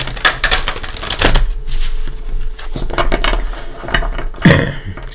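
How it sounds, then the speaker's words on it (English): A Tarot of Dreams card deck being shuffled by hand, with a rapid run of crisp riffling clicks and flutters, close and alone. "Let's give them a couple shuffles."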